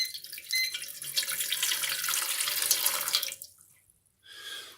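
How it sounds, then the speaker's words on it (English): Warm water pours steadily into a container for a few seconds while making sourdough bread, then stops, followed by a short trickle. "So I'm going to put in the warm water."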